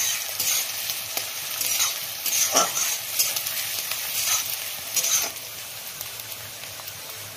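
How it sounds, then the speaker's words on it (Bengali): Sliced onions frying in hot oil for a mutton dish, a loud continuous sizzle with scraping stir strokes and a few louder bursts, heard alone without talk. "পেঁয়াজটা একটু লাল করে ভেজে নেব, মচমচে করে ভাজবো না।"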